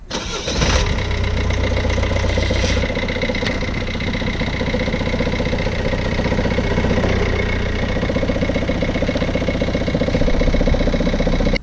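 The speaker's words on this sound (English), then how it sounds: "when I switched on the engine and with the gearbox on neutral, it was a very bad knocking sound." Vauxhall Vivaro van engine starting and then idling in neutral with a worn flywheel, loud and close, its steady idle carrying a persistent rhythmic knock with no one speaking.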